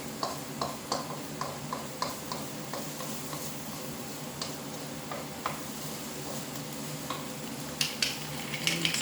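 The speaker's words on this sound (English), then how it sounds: "lots of stirring going on." A vegetable curry is stirred in a pan over a low, steady sizzle, a spoon tapping and scraping in regular soft clicks, fairly quiet and close, without talk.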